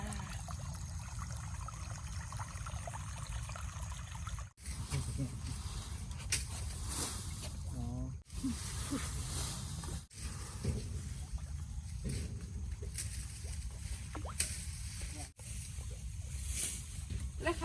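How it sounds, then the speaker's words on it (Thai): Water flowing and trickling in a stream beside rice fields, a steady broadband wash that runs throughout, with people talking over it and a few brief dips in level. "น้ำไหล"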